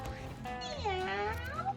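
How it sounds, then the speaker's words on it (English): A cat meows in the video game Mewgenics, a drawn-out, rising-and-falling cry stretching over most of the moment, loud and close with faint background game sound beneath. "Also meow."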